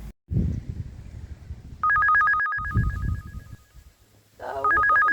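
A phone ringtone rings in two electronic bursts, separated by brief pauses with low rustling, loud and close.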